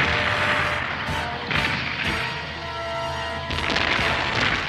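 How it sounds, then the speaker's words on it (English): Cartoon robots fire weapons in a run of loud artillery blasts and crashing booms, packed close together and overlapping with dense, busy mixed sound throughout. "Attention, robots! Fire!"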